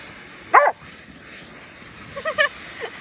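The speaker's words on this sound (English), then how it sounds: "What's wrong with this dog?" A dog barks in short sharp bursts: one loud bark early, then a quicker cluster of three or four barks later, set against faint background hiss.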